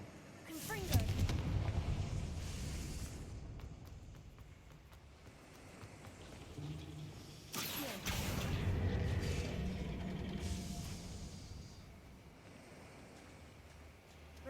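A Confringo fire spell blasting in Hogwarts Legacy, a booming burst with rumbling tail, then a second heavy blast a few seconds later over low game ambience, with a voice speaking.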